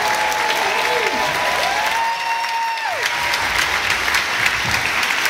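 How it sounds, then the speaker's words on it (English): Applause at a school Christmas play for children dressed as reindeer elves, a loud, sustained clapping crowd lasting throughout, with faint voices and whoops mixed in. "Let's give another round of applause for our amazing reindeer elves"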